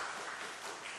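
A church congregation applauding during a worship service, a brief, steady wash of many hands clapping, moderately loud and with no talk.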